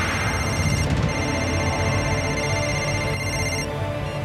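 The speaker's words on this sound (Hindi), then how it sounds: "बबन को फोन करो।" A telephone rings in a scene from the animated series Shiva, a steady electronic ringing tone held throughout at moderate loudness, with no voices over it.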